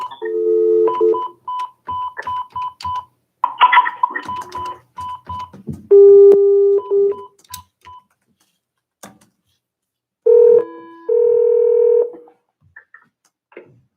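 A phone dials in to a county commissioner meeting with a series of touch-tone DTMF beeps in short bursts, separated by gaps and followed by a few longer steady tones. The tones are loud and clear, with no talking.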